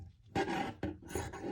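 Scissors trimming around cut-out fabric pieces for a Squishmallow-style plush, three bursts of close, raspy snipping and rubbing with short pauses between.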